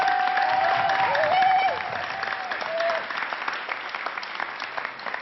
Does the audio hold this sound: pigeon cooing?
no